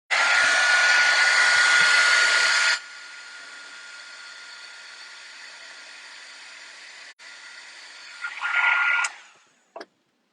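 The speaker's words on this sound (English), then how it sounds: "And my heat gun." A heat gun blasts loud, broad airflow for about three seconds while drying an alcohol ink craft background, then drops to a steady quieter hum, with a brief louder burst near the end before it cuts off.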